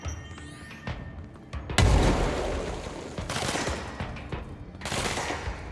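Gunfire in the third-person action game Control, a rapid series of loud, close shots with several sharp heavy bursts standing out over a busy, reverberant background, with no talking.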